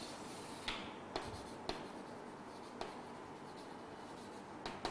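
Chalk or marker strokes on a board during a biology lesson, a handful of short scratchy taps and strokes spaced irregularly over a quiet room background.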